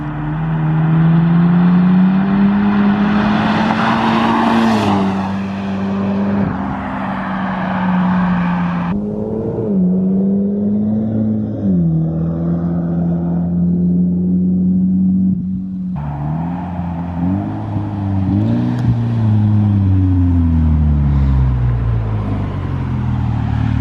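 Loud, close exhaust note of a Mitsubishi Lancer Evolution X MR with a straight-piped exhaust: the engine revs up and drops back repeatedly, with rising and falling pitch and a raspy roar, and no talking.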